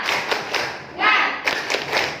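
A class of several people clap together in a quick rhythmic cheer pattern, close by, with voices mixed in among the claps.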